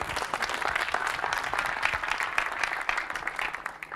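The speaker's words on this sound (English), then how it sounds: "please give them your applause" A roomful of people applauding at a State of the City evening event, continuous fairly close clapping that holds steady and tapers slightly at the end.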